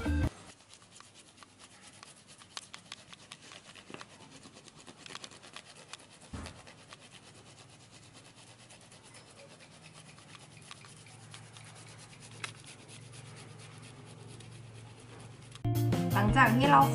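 Purple sweet potato being grated at home, a steady close scraping rasp that runs continuously at low level, ending with a louder burst of handling noise.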